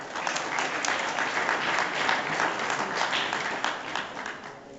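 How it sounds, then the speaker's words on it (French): Audience applause at a prize-giving ceremony for the Trophée Job Morvan cycling event in Plumelin, 2014: dense, steady clapping from a crowd, fairly loud and sustained throughout with no pause. "Et on applaudit celui qui a été malchanceux aujourd'hui"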